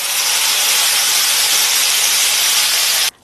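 Ground chutney poured into a hot tempering of mustard seeds and curry leaves, producing a loud, steady, close hiss and sputter that holds for about three seconds and then cuts off abruptly.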